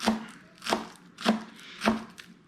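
Four evenly spaced knife chops go through an onion onto a cutting board. Each is a crisp, close thud-and-crunch, with quiet gaps between them.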